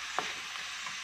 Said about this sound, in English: Stir fry. Mix all together.